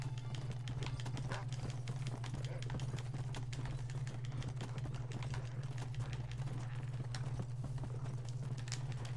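Steady clip-clop of a horse's hooves in a rhythmic trot, ridden through the Western game Red Dead Redemption, fairly faint with a constant low hum beneath.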